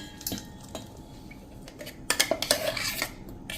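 A metal pot being handled while making mango juice, clanking and scraping, a burst of several bright knocks in quick succession after quieter handling, close by with no talking.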